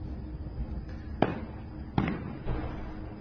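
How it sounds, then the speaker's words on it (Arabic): White phosphorus bombs burst at night over Al-Shifa Hospital in Gaza, two sharp distant booms about a second apart and a softer third, over a constant low rumble with no speech. "يبدو أنه الليلة قرر الجيش الإسرائيلي استهداف مستشفى الشفاء بأعداد مهولة من قنابل الفسفورية"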